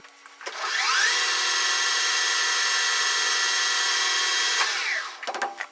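A lathe knurls a metal tap handle without a center: a loud, steady whirring and grinding starts up, holds evenly for about four seconds, then winds down and ends in a few clunks.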